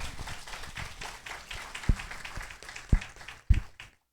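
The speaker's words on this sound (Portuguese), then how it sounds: "Vamos dar uma salva de palmas para eles." Applause and scattered clapping for youth performers at a church youth service, a light patter with a few sharper claps rising out of it before it fades away.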